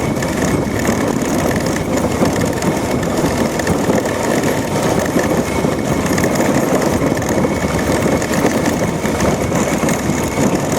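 A 1967 Impala drives along a rough, rocky road. A dense, constant engine and road rumble stays loud and unbroken throughout, with no talking.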